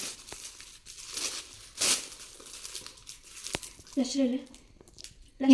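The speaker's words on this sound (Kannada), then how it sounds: "ಇದನ್ನು ಈಗ ರ್ಯಾಪ್ ಮಾಡಿ ಅವರಿಗೆ ಗಿಫ್ಟ್ ಮಾಡೋದು" Gift wrapping paper crinkles and rustles in bursts while a present is wrapped for a birthday, fairly close and soft, with someone speaking intermittently over the handling.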